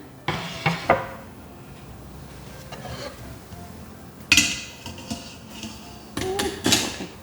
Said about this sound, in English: I'm gonna transfer the contents into this pan.